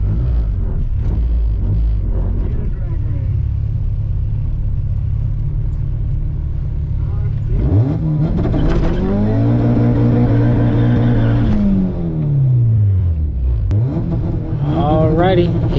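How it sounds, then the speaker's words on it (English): Acura Integra DC2 with a B20B engine revving hard at a racetrack, the transmission popping out of gear, a loud continuous engine roar climbing and falling in pitch, with people talking over it. "that transmission and engine is just rocking itself and popping the transmission out of its own gear"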